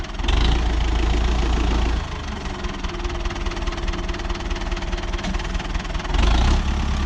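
A Renault tractor clearing and scraping a yard, its engine running with a loud, steady throbbing drone that rises in load at the start and end as the wheels spin for traction.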